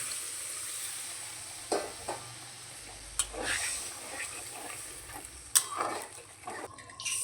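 Water goes into a pan of pointed gourd fried with spices, raising a steady soft sizzle broken by a few sharp clinks and stirring sounds.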